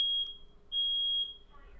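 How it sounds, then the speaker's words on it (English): Smoke alarm beeping indoors, two sharp high-pitched electronic tones, the second longer, fairly clear over a quiet room. "the fire alarm is going off"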